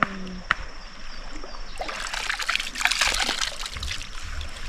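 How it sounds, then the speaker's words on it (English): River water trickles and splashes close by in a village setting, a soft uneven burble that swells midway with brief splashes. "River."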